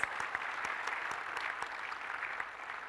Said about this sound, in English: a big round of applause to our wonderful panelists